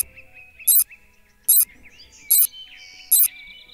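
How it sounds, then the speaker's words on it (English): A compact sonar in a video game beeps on detecting a wall, giving four short, bright chirping bursts at an even, steady pace over a quiet background, with no voices. "If the sonar detects a wall, it makes a sound like this."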